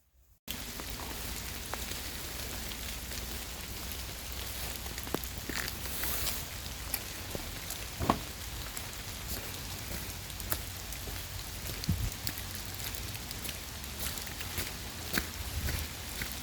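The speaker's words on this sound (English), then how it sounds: "Hopefully the rain stops and I'm gonna have a little stroll." Steady rain falls throughout, with dense patter on surfaces, occasional louder drops and faint thuds that could be footsteps, no talking.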